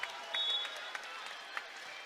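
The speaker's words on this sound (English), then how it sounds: "The claps come with it." Crowd clapping and applauding at a women's college volleyball match, Penn State against Minnesota, a steady wash of claps with sharper peaks, moderately loud and continuous at match point.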